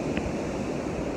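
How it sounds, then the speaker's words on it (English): Small ocean waves wash against the shore on a windy day with little surf, a steady, close rushing wash mixed with wind noise and no one speaking. "See the waves."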